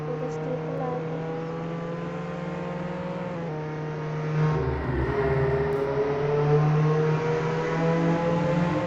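A car drives along in the Roblox game Jailbreak, its synthetic engine hum holding steady and then rising in pitch as it speeds up.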